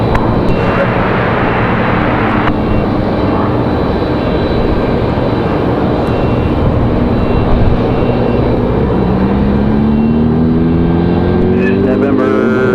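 A FedEx Boeing 767-300 jet on approach to land at Raleigh-Durham, a loud steady engine roar filling the whole stretch with a rising whine near the end, while radio chatter and voices talk over it.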